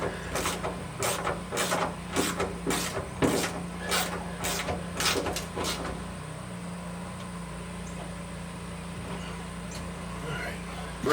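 Drilling a starter hole for a bolt through fiberglass inside the trunk of a 1964 Ford Falcon under restoration: a run of short, rough, evenly spaced bursts for about six seconds, then a low steady hum.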